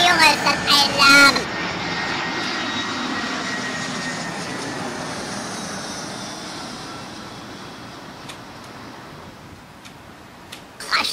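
A propeller aircraft passes overhead above a garden, a loud broadband drone that swells and slowly fades over about ten seconds, with a few brief voice-like sounds near the start.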